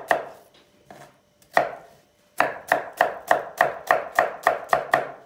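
Onions for a leek dish are chopped on a board with a knife, a few spaced cuts first, then a fast, even run of crisp, close chops.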